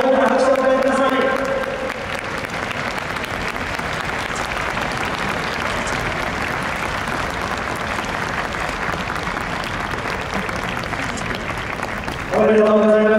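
Audience applause at the Super GT 2020 awards ceremony as the GT500 series champion team, car number 100 Raybrig NSX GT, takes the podium. The steady, sustained clapping lasts about ten seconds, with an announcer's voice just before and after.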